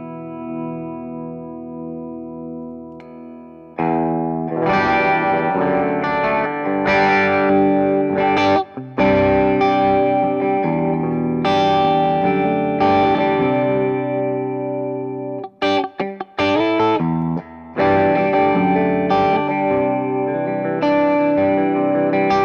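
An electric guitar through an Orange Super Crush 100 solid-state head at low gain rings out with chords and single notes, lightly driven with chorus-like shimmer and echo, played alone with a brief pause midway.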